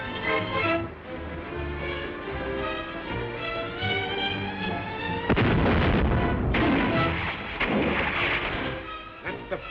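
Gunfire and heavy blasts from a 1936 adventure film serial: sustained loud bursts of shots and booming impacts, swelling into dense rapid volleys over a continuous roar, with no talking.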